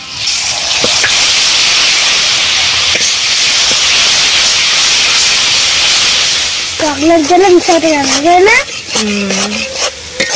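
Chilli powder, turmeric, whole peeled garlic and tamarind sizzle loudly in hot oil in a pan, with a steady frying hiss and stirring, and a voice briefly speaks near the end.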